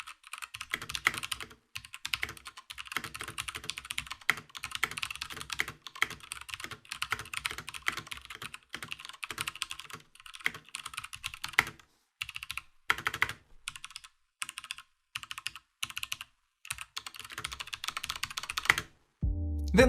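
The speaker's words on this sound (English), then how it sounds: "Here's a sound test so you can hear how these yellow Alpha Zulu switches sound." Typing on an X40 gaming keyboard fitted with yellow Alpha Zulu switches: dense, fast runs of close, crisp keystroke clicks with short pauses between bursts, alone without talk.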